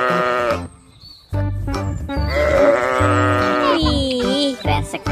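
A toy sheep, a Garut sheep figure, gives loud, drawn-out wavering bleats at close range, one after another with a short pause early on.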